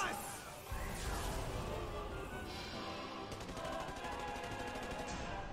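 Rapid gunfire of bullets shot from a character's fingers in the Hunter x Hunter anime, Episode 43: a dense, continuous crackling barrage with crashing impacts, steady in loudness throughout.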